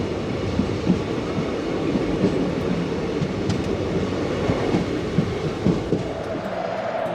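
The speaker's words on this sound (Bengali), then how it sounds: "আমাদের ট্রেন তমলুক ছেড়ে দিল।" A passenger train pulling out of Tamluk station on the Santragachi–Digha route, a loud continuous rumble with wheel clatter and rattling carriage noise heard from onboard.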